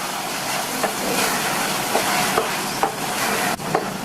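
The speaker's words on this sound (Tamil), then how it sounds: "1 கப் ஃப்ரெஷ்ஷான பச்சை பட்டாணியை சேர்த்துட்டு நல்லா ஒரு தடவை இந்த மசாலாவில் பரட்டி விட்டுக்கணும்" Fresh green peas being stirred into masala gravy in a pan, a steady sizzling scrape with a few soft clinks of the spoon, close and alone with no talking.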